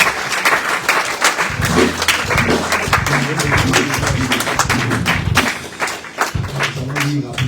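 A congregation at a Pentecostal church service claps and cheers in sustained, dense applause, with voices and a low musical backing running underneath for the whole stretch.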